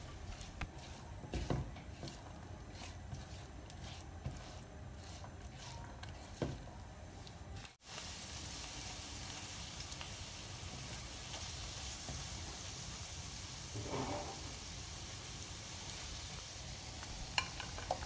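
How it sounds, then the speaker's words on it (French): Sliced onions sizzle in a hot pan with a steady, moderately loud frying hiss. A brief gap occurs near the middle, and then the sizzle resumes, brighter and fuller, with occasional soft stirring sounds. "Je rajoute les 2 oignons émincés. Je les laisse cuire pendant environ 2 minutes."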